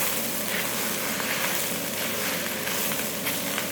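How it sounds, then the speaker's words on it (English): Vegetables and spring onions stir-frying with beef noodles in a hot pan for Singapore mee goreng, a loud, steady, close sizzle and hiss running continuously without pause. "So in goes the vegetables and the spring onions. And give that all another stir to cook."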